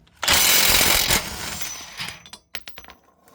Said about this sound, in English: I'm using a 36mm. I'm just going to impact this off.